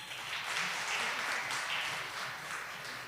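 A business seminar audience in Denton claps together, a dense, continuous wash of many hands at moderate loudness with no talk over it.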